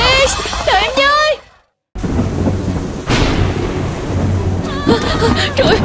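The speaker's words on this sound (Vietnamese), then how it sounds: "Mưa to quá." Heavy rain pours steadily while a sharp thunderclap cuts in, followed by rumbling, in an animated Gacha Club scene; voices talk over the storm before and after the loud crack.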